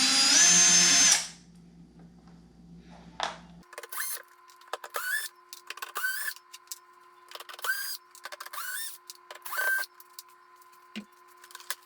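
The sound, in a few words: power drill removing screws from a portable air conditioner shell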